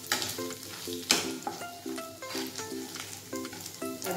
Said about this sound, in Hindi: मसाले को अच्छी तरह से भून लें।